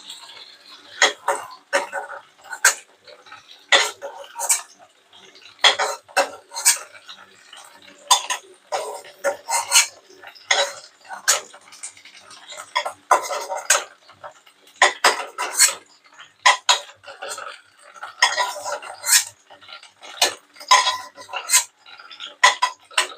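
Fried pointed gourd pieces lifted from a wok onto a plate, a series of close metallic scrapes and clinks coming in irregular bursts with quiet gaps between them.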